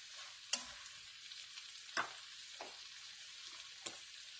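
Shrimp cook in garlic butter in a pan, a faint steady sizzle broken by a few scattered clicks and scrapes of a utensil being moved around.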